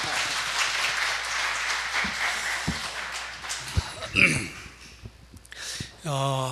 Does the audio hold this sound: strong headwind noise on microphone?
no